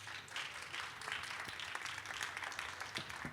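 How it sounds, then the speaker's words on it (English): An audience at a talk on managers in the Balkans applauding, a dense, even patter of many hands clapping that continues throughout without breaks. "So a round of applause and then a few questions if you have any."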